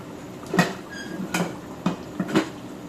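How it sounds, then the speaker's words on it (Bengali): A lid set on a cooking pot makes several short metallic clanks and knocks spaced through the moment, close and moderately loud over a quiet kitchen background. "এখন ঢেকে দিব"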